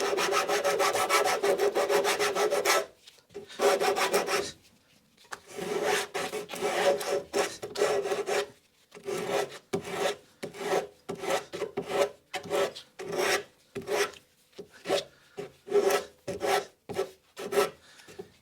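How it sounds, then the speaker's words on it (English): Coarse 40-grit sandpaper rasps back and forth across a wooden moulding, first in long continuous passes, then in a run of short, quick, rhythmic strokes, close and loud with no talking. "whatever's left will sand out pretty readily with a coarse bit of sandpaper to start with"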